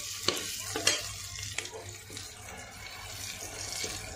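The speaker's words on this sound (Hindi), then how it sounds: "अब ये आलू जब कांदे के साथ फ्राई होएगा" Sliced potatoes and onions fry together in a pan for a mutton gravy, sizzling continuously under sharp scrapes and clicks of a spoon stirring them; no voices.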